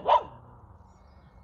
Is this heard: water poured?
no